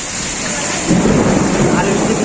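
Heavy rain pours steadily in a village while a deep rumble of thunder rolls in and swells partway through, loud and close.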